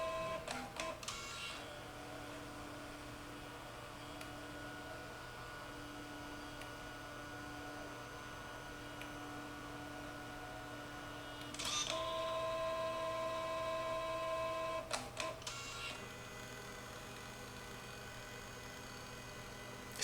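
A photo printer running through a print job, a steady mechanical hum with tonal whirring, and sharp feed clicks and clunks near the start and again mid-way, close and fairly quiet with no talking.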